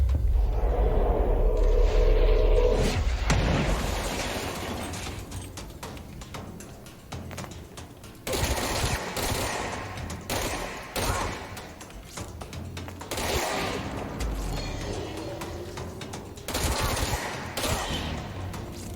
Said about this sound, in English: I do like the machine pistol better than the other one.